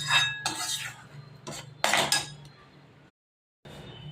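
A spoon scraping roasted wheat flour cooked in ghee out of a pan, with loud metallic scrapes and clinks in irregular bursts close by, then a brief silence before another scrape.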